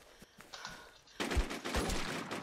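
Quiet rustling gives way to a sudden burst of rapid gunfire with heavy low thumps in the video game Infestation: The New Z, continuing loud and dense to the end.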